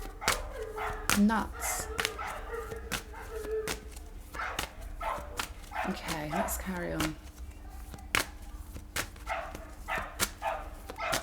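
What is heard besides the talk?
dog barking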